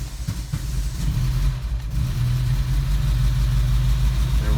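A 1969 VW bus engine idling just after a cold start, with a steady low rumble that stays even and close throughout.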